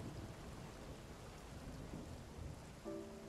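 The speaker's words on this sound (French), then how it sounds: "On traverse une tempête" Storm in the video game Spiritfarer: steady, dense rain hiss with a low rumbling roll of thunder underneath, continuous and fairly quiet throughout.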